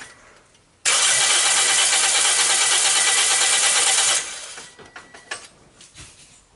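A car engine cranks on the starter during a compression test, a loud, rapid, even whirring for about three seconds that cuts off abruptly, followed by quieter clicks and handling noise.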